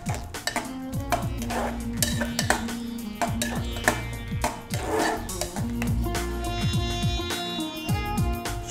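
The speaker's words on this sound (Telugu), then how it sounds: "వీటన్నిటిని బాగా మిక్స్ చేసేసుకుందాం" Spiced radish kofta ingredients are mixed in a bowl, giving repeated close clinks and scraping knocks of a utensil against the dish in an uneven rhythm.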